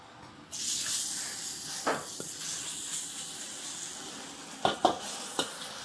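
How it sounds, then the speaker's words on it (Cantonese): Beef stir-frying in a hot wok on a home gas stove, a steady broadband sizzle with a few sharp scrapes and clinks of the spatula against the pan, close and fairly loud, with no talking. "先炒牛肉先"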